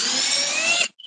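A DeWalt cordless drill spinning in reverse, a loud high whine running steadily for under a second before cutting off abruptly, followed by a faint click.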